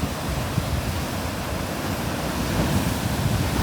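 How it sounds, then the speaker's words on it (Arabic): Rough sea surf crashes and churns on the shore at Znata, a dense, continuous roar of breaking waves with wind buffeting the microphone, no voices. "مع البحر مجهد"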